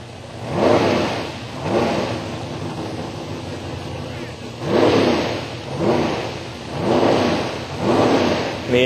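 A 2000 Firebird drag car with a huge 700-800 cubic inch nitrous engine revs in repeated loud surges at the track, roughly six rising and falling bursts with brief lulls between.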